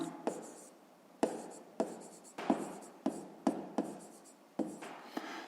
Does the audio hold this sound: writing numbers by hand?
yes